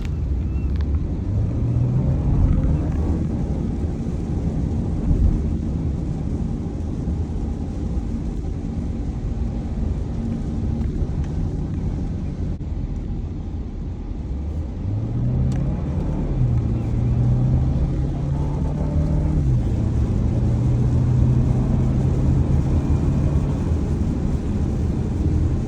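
Steady low engine drone fills an Audi A4 interior, with rumble and occasional rises in pitch as the engine revs while driving.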